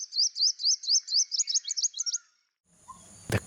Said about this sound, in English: Forest birds are also common here.